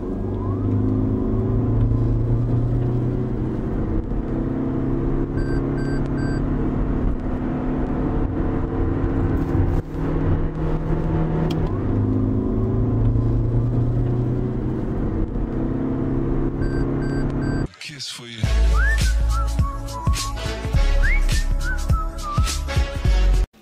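A Toyota Prius Prime hybrid engine drones steadily as it accelerates hard to 100 km/h, with a constant road and wind roar, then a sudden shift to sharper mechanical rattling near the end.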